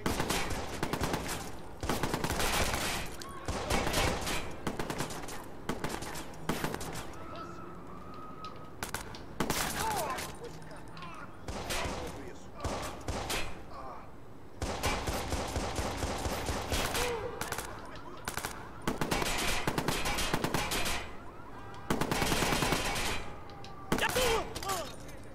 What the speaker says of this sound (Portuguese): Quem é o babaca que tá tentando atirar em mim?